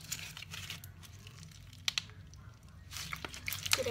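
Crunchy foam slime studded with beads is squished by hand, giving soft crackling, crinkly bursts that are quiet at first and grow busier and louder toward the end, with no talking.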